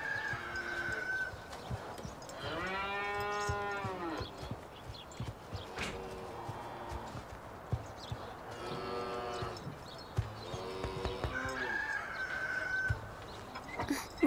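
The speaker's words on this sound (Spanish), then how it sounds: "Lleva la vaca al campo." A cow on a farm lets out several long, drawn-out moos spaced across the stretch, with a rooster crowing and other farmyard sounds mixed in at moderate distance.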